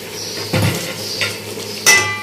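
Lobia (black-eyed pea) rice being stirred in a cooking pot, with a few distinct scraping and clanking strokes of a utensil against the metal, close and moderately loud over a faint steady background.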